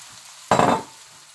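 Aubergines hit a hot pan with browning sugar and tomatoes, setting off a sudden loud sizzle that bursts out at once and then settles into a softer, steady frying hiss.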